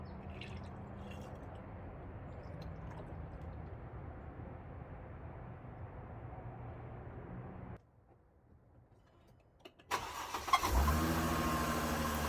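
A 2008 Mercedes C300 runs steadily after a radiator replacement, goes quiet for a couple of seconds, then fires up again with a louder, close engine start and a steady idle.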